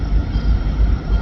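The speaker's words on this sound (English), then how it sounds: "Probably hear the power of the locomotives now." Heavy freight locomotives rumble past pulling a mostly empty train with center-beam cars, a dense, steady low roar close by with no pauses.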